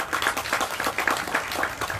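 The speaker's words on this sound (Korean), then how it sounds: "다시 한번 박수 부탁드리겠습니다" An audience at an outdoor garden concert claps after a toast. The applause is a dense patter of many hands, steady and moderately loud, with no voices.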